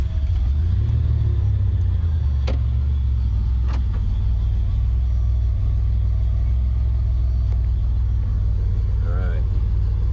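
A DeLorean car pulling away, a steady low engine rumble that holds loud and constant throughout, with a couple of brief clicks early on.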